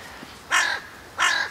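Two harsh carrion crow caws, evenly spaced and fairly close, ring out over a quiet open moorland background in January.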